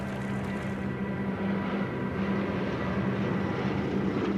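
American bombers drone overhead on a raid toward Dresden, a steady, dense roar of many piston aircraft engines with a low throbbing hum, continuous and unbroken.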